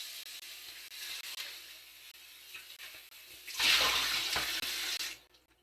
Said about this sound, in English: I'm cleaning up that pan we just used